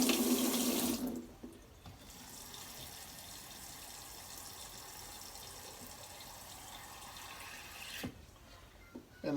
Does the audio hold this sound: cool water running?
yes